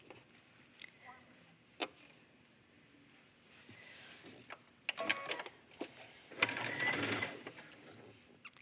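A sewing machine runs a long basting stitch on a pant pocket in short bursts, the loudest run near the end, mixed with small clicks and handling sounds.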